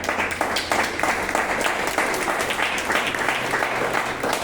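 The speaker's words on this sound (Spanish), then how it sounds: "Vamos a darle un fuerte aplauso al Rey." A church congregation applauds during a worship service, a dense continuous round of clapping from many people that stays even and fairly loud throughout, with no voices standing out.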